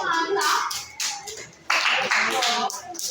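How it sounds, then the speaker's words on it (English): Children clapping their hands in a classroom during a grammar lesson, bursts of close, uneven claps in a few waves with young voices mixed in. "Give yourself a hand clap."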